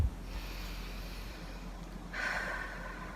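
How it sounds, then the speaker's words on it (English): A single slow, deep breath drawn in near the microphone, soft at first and swelling into a steady airy rush over the final second against a quiet background. "take a deep breath again"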